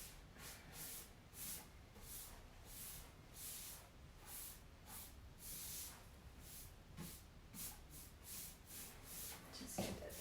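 Spray gun laying down a first coat of paint during prep work, a steady series of soft hissing bursts repeating close by at a moderate level, with brief pauses between passes.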